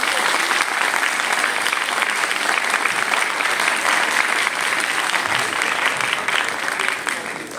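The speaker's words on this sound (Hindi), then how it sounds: "उनके लिए अपने अपने मम्मी डैडी के लिए तालियां बजा दो एक बार" A large dance festival crowd claps for their parents in dense, steady applause that stays loud and even throughout before easing slightly at the very end.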